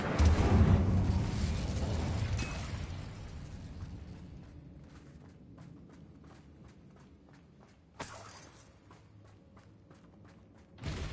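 A fiery spell blast in the Hogwarts Legacy video game opens with a loud roaring burst that fades into rumbling, followed by scattered small crackles and a second sharp burst near the end.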